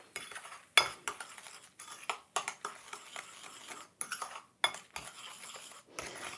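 A spoon scrapes and clinks against a bowl while mixing a paste of bicarb and plenty of squeezed lemon juice, in quiet irregular bursts of close, light tapping and scraping.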